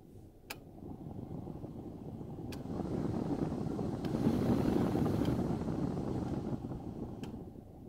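The heater blower fan of a 1995 Ford Ranger extended cab runs inside the cab, a steady broadband whoosh that swells louder partway through as the speed rises, with a few faint clicks and no talking.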